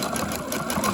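A sewing machine with a universal needle straight-stitches a half-inch seam on a T-shirt neckline binding, running as a steady, fast mechanical whir at close range throughout.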